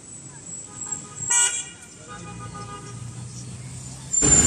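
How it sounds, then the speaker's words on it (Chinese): A large tourist coach bus pulls up at a stop in Fengjie, Chongqing, with a low, steady engine hum and a couple of short horn toots, while people talk nearby and traffic rumbles in the background. "旅游专车来了"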